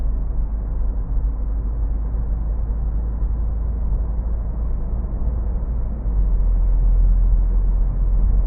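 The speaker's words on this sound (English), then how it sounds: "Maybe it's just a little bit quiet so you can hear the engine maybe." Steady low rumble inside a 2025 Citroen C3 Aircross 1.2 mild hybrid with 145 HP while driving at night, the engine and road noise a constant muffled drone that gets slightly louder near the end.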